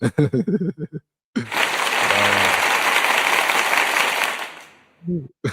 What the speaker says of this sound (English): clap it up for him, baby